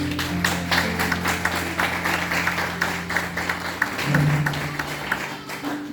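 A church congregation claps in steady applause for several seconds, moderately loud and even, with a low sustained organ or music tone underneath.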